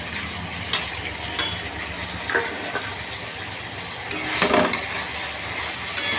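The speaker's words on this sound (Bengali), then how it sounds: "এবার হচ্ছে আলুটাকে আর নারকেলটাকে এর মধ্যে ছেড়ে দেবো।" Potato and coconut go into a pan of finely shredded cabbage, giving a steady hissing fry under repeated scrapes and clinks of a utensil against the pan, with a louder burst of sizzle and stirring near the end; no talking.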